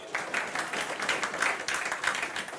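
A class of students claps hands together in applause, a dense, steady patter of many hands lasting a couple of seconds.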